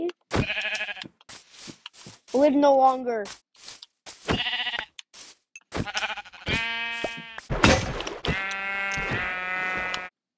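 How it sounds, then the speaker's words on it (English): Sheep bleat several times in Minecraft, wavering calls with quiet gaps between them, close and fairly loud, with a voice speaking briefly among them. "Sheep."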